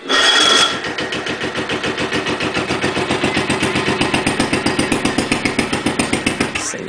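A Wheel Horse lawn tractor engine runs on choke on a cold night, a loud, close, steady rapid chugging with regular firing pulses throughout, slightly rough and uneven at the start.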